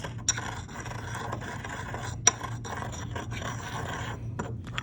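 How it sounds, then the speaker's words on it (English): Crystal being ground into a fine powder, a steady close rasping scrape with a low continuous hum underneath and a couple of sharper clicks. "you could begin to grind it into even smaller and smaller pieces"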